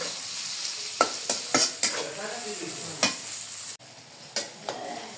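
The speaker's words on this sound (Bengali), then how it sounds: "ভালো করে পেঁয়াজটা আমাকে ভাজতে হবে" Onions fry in a pan under a constant hiss while a spatula scrapes and knocks against the metal in irregular sharp strokes, and the sizzle briefly drops near the end.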